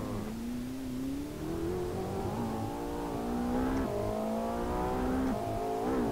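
Racing car engine in Assetto Corsa on the Mount Akina mountain road, holding a steady loud drone that climbs in pitch through several shifts and revs, with faint tire noise and no talk.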